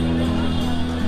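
Dense crowd hubbub on Bhendi Bazar street in Mumbai late at night during Eid and Ramadan celebrations, a steady loud babble of many voices with a low hum running through the whole moment.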